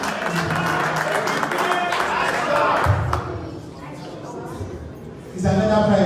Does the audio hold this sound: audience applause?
yes